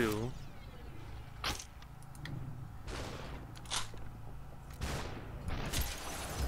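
Gunshots in the shooter game SUPERHOT: several sharp, loud shots ring out at irregular moments over a low steady hum, each with a quick crack and short decaying tail, and a voice is heard talking between them.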